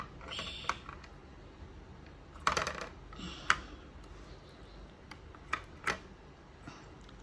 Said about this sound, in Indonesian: Tekan sampai dia bunyi klak